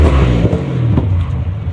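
A donor engine for a 2007 Pontiac Grand Prix GT idles loudly and close up, a steady low rumble holding even with slight wavering throughout.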